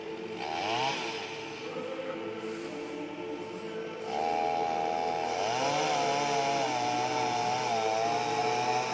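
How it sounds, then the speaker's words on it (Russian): A petrol chainsaw cuts into a fir tree, its engine whining and revving up and down in wavering pitch, growing louder and steadier midway as it bites into the wood. "Кончается бензин в нашей доблестной бензопиле."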